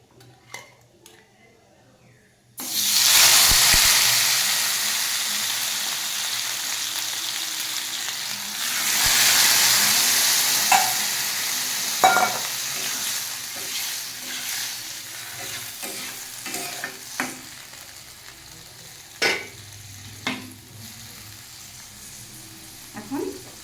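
Potatoes drop into a hot pan with a sudden loud sizzle that gradually settles, while a spatula stirs and scrapes with occasional metallic clinks against the pan.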